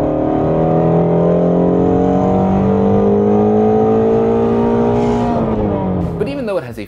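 A flat-plane crankshaft car engine with a rugged American exhaust revs loud and close, a steady climbing bellow holding for several seconds before cutting off and breaking into a rough, fluttering roar.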